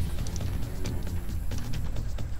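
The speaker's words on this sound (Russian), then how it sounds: "Нет, слышите шаги, да?" Footsteps in the Far Cry 1 shooter, set at a dam during a mutant uprising: a steady run of soft thudding steps, faint and somewhat distant, under a constant low game ambience.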